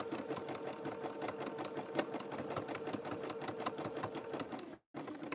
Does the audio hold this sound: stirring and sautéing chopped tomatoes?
no